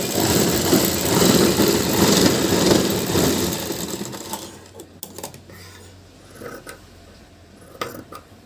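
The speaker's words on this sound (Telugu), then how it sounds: "ఇలా 3 స్టిచ్చింగ్ చేయాలండి బ్లౌజ్కి" A sewing machine runs steadily while stitching a blouse, a loud continuous whir for about four seconds, then stops, leaving quiet handling noises and a few faint clicks.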